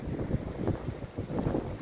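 Steady evening wind on the Sandown seafront, Isle of Wight, buffets the microphone in low rumbling gusts, with no voices, just a continuous blustery roar.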